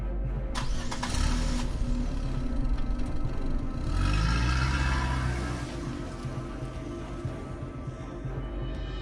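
A car engine cranks and catches, revs up with a rising whine, then settles into a steady rumble as the car pulls away, loud and close, with no voices.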